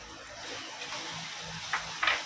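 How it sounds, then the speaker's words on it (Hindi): Sesame-jaggery tilkut roasting in a pan with softened onions gives a steady soft sizzle, broken near the end by a couple of brief stirring scrapes. "तिलकुट को अच्छा भून के लेंगे"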